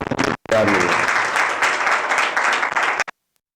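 Audience at an anti-addiction awareness gathering breaks into loud, dense clapping that starts abruptly after a brief pause and stops sharply, a sustained burst from many hands nearby.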